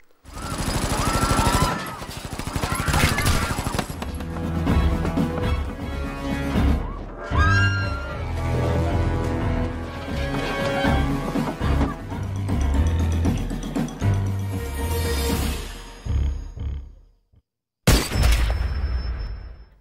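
Guards open fire in an action film, a dense loud barrage of shots and booms mixed with dramatic score that runs nearly continuously, breaks off into a brief silence and then bursts back in.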